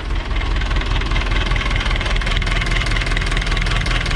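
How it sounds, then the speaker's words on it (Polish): A heavy diesel engine of an Ursus C360 tractor idles steadily with a low, even rumble and faint knocking, continuous and close with no voices, before an overhaul. "Jak se silnik pracuje"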